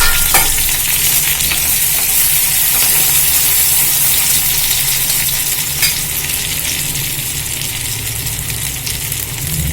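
Chopped onions and fennel seeds sizzling in sesame oil for a simple green peas gravy, a loud, steady frying hiss with a few brief stirring clicks and no voices.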